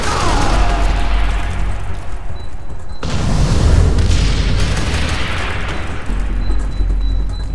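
Loud, sustained booming blast of an exploding zombie in F.E.A.R. 3, a dense rumbling eruption that swells at the start, surges again midway and rolls on without pause.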